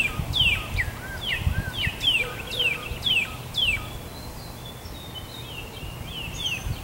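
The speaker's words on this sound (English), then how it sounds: "I can hear cardinals over my left shoulder." Cardinals sing outdoors, a series of clear, sharply descending whistled notes repeated in a steady rhythm at moderate distance over a low background hum.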